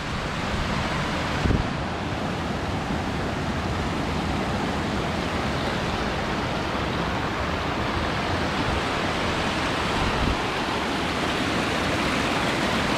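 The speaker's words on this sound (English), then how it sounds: "So much water." Loud, steady rushing water roars close by in an ancient forest without pause, a broad constant noise that never changes.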